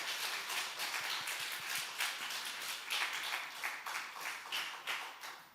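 A church congregation at a Sunday evening service applauds together, a steady, fairly soft wash of many hands clapping that carries on evenly for several seconds with no talk.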